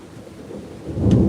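Thunder rumbles in a Florida storm, a low roll that swells and grows loud toward the end over a bed of falling rain, with no voices.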